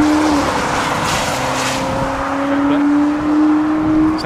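A Ferrari 488 engine drones on at a steady pitch, loud and fairly close, with a slight dip and rise in tone, against wet road or rain noise.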